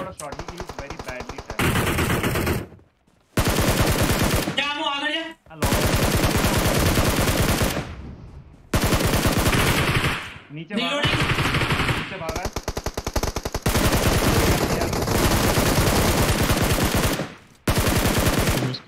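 Rapid automatic gunfire from PUBG Mobile rattles in long sustained bursts separated by brief gaps, loud and dominant, with a voice speaking briefly between bursts.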